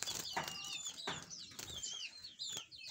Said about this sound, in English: these are amazing canaries